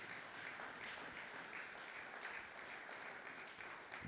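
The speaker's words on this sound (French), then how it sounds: "Est-ce qu'on peut encore acclamer pour la gloire de notre Dieu?" Sustained applause from a church congregation during a Sunday thanksgiving and praise service, a steady wash of clapping hands heard at a distance and fairly soft throughout.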